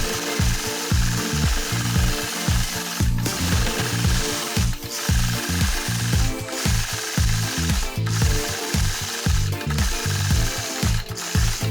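Sway 3 sewing machine stitching during free-motion quilting, a fast steady mechanical chatter of needle strokes with brief pauses and shifts in speed, close and alone with no talking.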